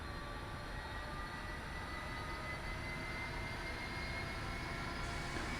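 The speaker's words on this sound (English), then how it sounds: "With the left engine started, press right, Control, and Home to start the right engine." A twin-engine helicopter in the DCS Black Shark combat flight simulator spools up as its right engine starts, a steady, faint, even turbine whine with a rising high tone and no speech.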